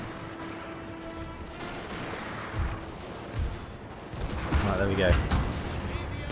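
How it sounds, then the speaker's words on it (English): Cannons fire across a Napoleonic battlefield in Napoleon Total War, repeated booming artillery blasts and rolling volleys at varying distances, with someone talking briefly over the din. "Cannons are firing now."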